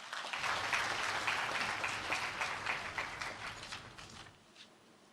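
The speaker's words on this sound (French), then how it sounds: "sur vos applaudissements, s'il vous plaît" An audience at the launch ceremony of the 2019 Pan-African Debate Cup bursts into dense applause, which holds steady and then fades away over about five seconds.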